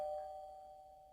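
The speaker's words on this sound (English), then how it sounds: "That's the doorbell here." A single doorbell chime rings out clearly, then fades away over about a second, heard alone with no talking.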